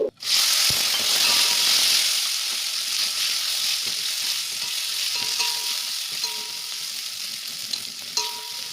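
Small sambar onions fry in hot oil tempered with mustard seeds, cumin, asafoetida, curry leaves and dried red chillies for idli sambar; a loud, steady sizzle runs throughout, broken by occasional stirring clicks.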